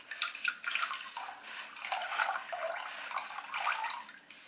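Used oil drains from the oil filter of a Honda Africa Twin during a break-in oil change, a steady close trickle and patter of liquid running out with no talking.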